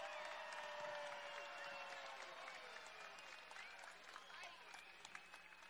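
Audience applause at a comedy wrestling show, a steady clapping wash with scattered shouts and voices over it, fairly full and sustained, tapering slightly toward the end.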